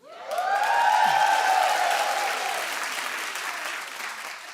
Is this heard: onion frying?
no